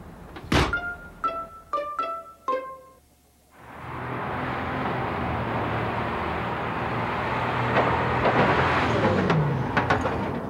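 A truck loaded with newly minted coins pulls away after a few sharp thunks, its engine rising into a steady, fairly close rumble that holds for several seconds.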